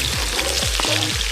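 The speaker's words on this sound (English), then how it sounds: "Sauteing the vegetables." Vegetables sauté in a pan for a fish sauce at an outdoor riverside cooking spot, giving a steady close sizzle with a few soft low stirring bumps over a short stretch.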